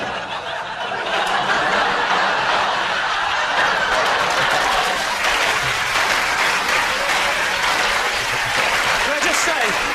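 A studio audience claps throughout, a dense, loud, steady round of applause mixed with scattered chuckles and laughter, with a voice speaking over it.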